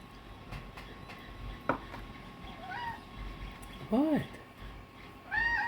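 A pet cat meows three short, rising calls spaced a second or so apart, close by inside a home during miniature painting, with a person briefly speaking between them.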